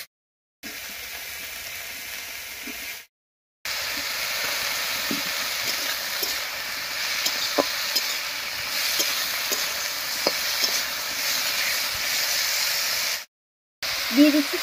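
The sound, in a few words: potatoes and onions frying together in pan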